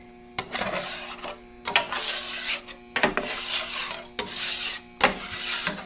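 Fresh oil is spread across a Vevor 22-inch flat top griddle in five close, rhythmic wiping and rasping strokes, each about a second long, with short pauses between.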